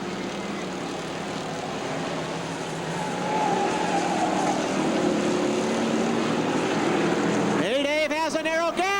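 A race car spins out during an F8 feature race on a racetrack, with engines droning loudly throughout and a sudden rising engine roar near the end as cars pass close by.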